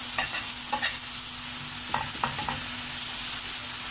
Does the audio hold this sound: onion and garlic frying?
yes